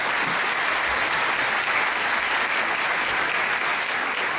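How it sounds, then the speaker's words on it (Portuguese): Audience at a continental theology congress applauding, a thick, even roar of many hands clapping that stays steady and fairly distant throughout, with no speech over it. "lo recibimos también con un aplauso"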